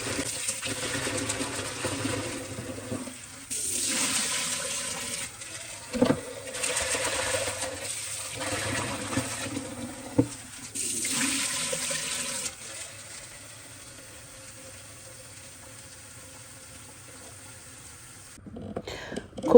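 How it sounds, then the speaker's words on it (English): Samp and beans rinsed under a running tap, gushing water in several long bursts with pauses in between, close and moderately loud, with scattered clinks and no talking. "I wash the samp and the beans about 2 to 3 times under running water"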